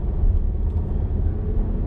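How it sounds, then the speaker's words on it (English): Volvo S90 sedan engine accelerating, heard from inside the cabin as a steady low rumble with a broad road-noise hum, continuous and fairly loud with no talking over it. "if you can hear the engine noise when it accelerates, you can hear that."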